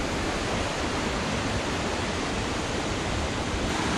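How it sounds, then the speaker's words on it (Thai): Nang Rong waterfall in Nakhon Nayok, swollen in the rainy season, roars with a dense, unbroken rush of falling water. The loud, steady wash never varies and drowns out everything else nearby. "นี่คือน้ำนะครับในทานน้ำตกนางรองครับช่วงหน้าฝนนะครับ"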